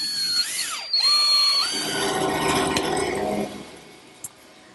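A power drill driving screws into a wooden cleat on the underside of a dining table top: a whining motor with pitch sweeping up and down as the screw seats, then a steadier grinding run that fades, close and fairly loud.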